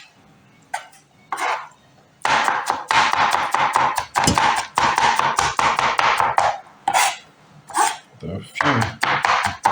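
A knife dices pickles for a Southern potato salad: rapid, close, uneven chopping taps come in dense bursts with short pauses, and someone talks between and over some of the cuts.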